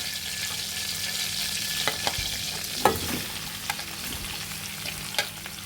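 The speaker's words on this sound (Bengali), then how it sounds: "আমরা মাছ ভাজা তেলের মাঝে এখন আমরা বেশ করা আলুগুলো দিয়ে দেবো" Diced potatoes sizzle steadily in oil left from frying bata fish, a close, even crackle broken by a few sharp stirring clicks, with no voices.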